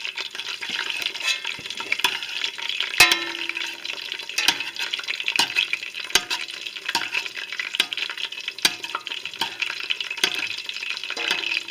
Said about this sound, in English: next, you will see us deep fry the last roll